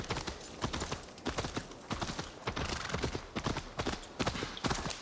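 Horse hooves gallop in the video game Assassin's Creed Valhalla, a fast, loud, rhythmic clip-clop of repeated hoofbeats close up.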